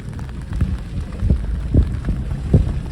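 Rain falling on waterlogged farm fields of soybean after heavy downpours, a steady soft patter with occasional heavier drops, close by and without voices.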